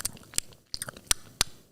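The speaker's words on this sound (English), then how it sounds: "they're both chewing on their bones right now" Two dogs gnaw on bones nearby, giving sharp irregular cracks and wet crunching bites separated by brief pauses, close and fairly quiet with no talking.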